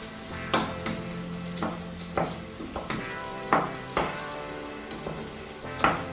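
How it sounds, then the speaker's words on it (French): Spelt grains being turned in butter in a pan while toasting for a risotto with asparagus and Bayonne ham: a soft, steady sizzle broken by irregular spoon scrapes and knocks against the pan, close up. "Là on va nacrer notre grain de riz avec le beurre"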